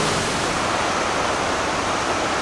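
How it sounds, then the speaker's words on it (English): Rushing waterfall in Aomori, Japan, a steady, loud, broadband roar of falling water with no breaks, close by and alone. "so that's three waterfalls."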